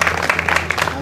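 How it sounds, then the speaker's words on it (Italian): Applause and clapping from a crowd gathered at a slalom race awards ceremony on Pollino, honoring driver Paolo Scarpelli, steady and fairly close throughout the short burst with a few voices mixed in. "applauso a Paolo Scarpelli."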